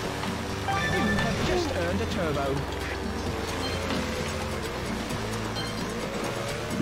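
Water waves wash and churn in the Wave Race: Blue Storm video game, a steady rushing surf sound mixed with engine whine, while someone speaks over the gameplay.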